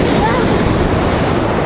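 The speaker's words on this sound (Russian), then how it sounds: "О, смотрите, какая волна идет." Surf rolling onto Adler beach in Sochi, a steady broadband wash of a breaking wave with wind buffeting close to the microphone, loud and continuous over its short span.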